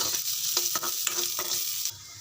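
Green chillies and shallots sautéing in a pan, a close bright sizzle broken by several quick scraping strokes of a spatula, fading slightly at the end.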